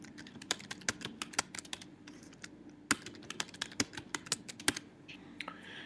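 Password being typed on a computer keyboard, a quick irregular run of close, crisp key clicks with short pauses, no talking.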